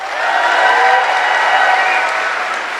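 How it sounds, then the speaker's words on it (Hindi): An audience at a motivational business talk bursts into loud applause for the speaker's mentor, a dense, steady wash of clapping that swells and then slowly eases off, with no voices over it. "मैं चाहूंगी इससे ज्यादा जोर से ताली बजा सकते हैं आप मेरे मेंटर के लिए"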